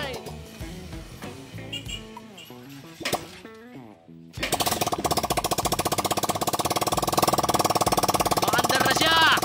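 Old wrecked motorcycle engine being started: sputtering, uneven cranking attempts with mechanical clinks and a voice, then the engine catches and runs in a loud, fast, steady rattling idle close by.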